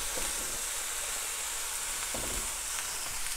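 Sliced yellow squash and onion sizzle in a hot pan for a casserole, giving a steady, close, continuous hiss with faint clinks of stirring.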